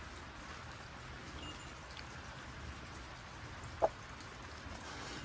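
Steady rain falls outdoors, a soft even patter of drops on surfaces, with a single brief louder tap partway through and no voices.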